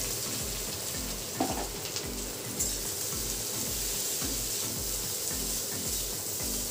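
Potato frying in mustard oil with crushed ginger and garlic, a steady close sizzle with a dense hiss and faint rhythmic stirring scrapes, a couple of brief clatters early on.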